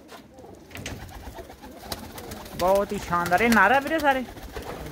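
Pet pigeons kept by a Punjabi pigeon fancier coo in a rising and falling burst of throaty calls, close and clear in the latter half, while someone talks over them.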